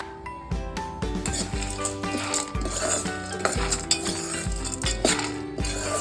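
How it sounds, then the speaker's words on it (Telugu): Peanuts and roasted chana frying together in a pan for chutney, with a utensil scraping and clinking against the pan in a steady stirring rhythm over a soft sizzle, close up. "ఈ పల్లీలు కాంబినేషన్ ఈ రెండు మంచిగా ఫ్రై కావాలి"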